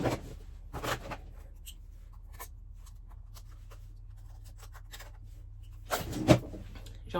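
Someone struggles to open a cardboard compartment of a Stylevana beauty advent calendar, with soft scratching and fiddling sounds and a couple of louder rustling bursts near the start and end.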